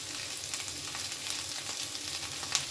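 Potatoes, capsicum and onion frying in a pan over a high gas flame, a steady bright sizzle with a few soft stirring scrapes, close and alone with no talk.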